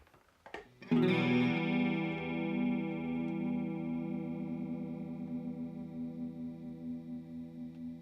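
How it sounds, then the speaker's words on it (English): A single electric guitar chord rings out after a short pick noise, swirling and wavering with a slow, deep chorus pedal effect as it sustains and gradually fades. "dial the depth and speed settings to where you're going to get that rollover kind of long"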